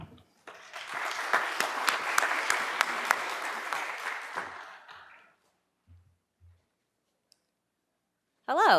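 Conference audience at the NYCETC 2018 event applauds steadily for about five seconds to welcome a speaker, the clapping dense and room-filling before fading to near silence, with a voice starting at the very end.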